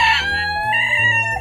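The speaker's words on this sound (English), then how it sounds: "Roosters can be very noisy, especially in the morning." A rooster crows loudly and close by, one long strained call that wavers in pitch before breaking off.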